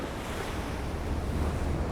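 Pacific Ocean surf on the shore at Valparaíso, Chile, a continuous broadband wash of waves mixed with wind rumble on the microphone, loud and steady with no voices.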